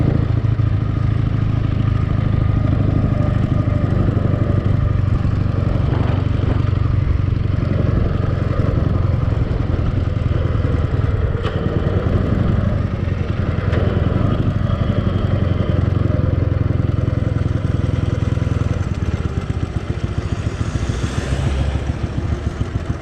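Dnepr motorcycle engine running continuously while riding slowly, a steady low rumble with rattling clatter, close and loud throughout with no talk.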